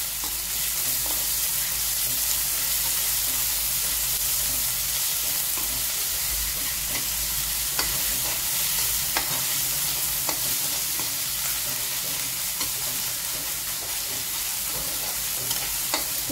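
A spice paste frying with sautéed onions while being stirred, giving a continuous dense sizzle with scraping spoon strokes, close and fairly loud, with no voices.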